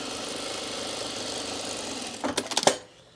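A sewing machine top stitching a pocket facing onto cargo shorts hums in a steady, close, moderately loud run, then ends in a few short stuttering bursts before stopping.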